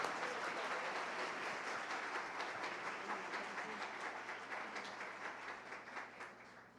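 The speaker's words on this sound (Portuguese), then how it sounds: "Muitas palmas, pessoal, muitas palmas." Guests at a family celebration applaud together in a continuous, fairly distant wash of clapping that slowly thins out, with faint voices underneath.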